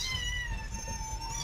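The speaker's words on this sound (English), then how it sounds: "I hear kittens." Kittens meowing with thin, high, drawn-out cries over a low background rumble, fairly close and continuous, with no voices.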